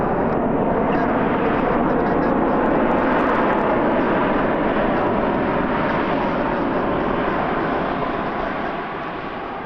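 Loud, sustained roar of airplane thrust reversers as a jet lands at Kelowna airport, a dense broadband rumble that holds steady and then eases slightly toward the end, heard close with no talking.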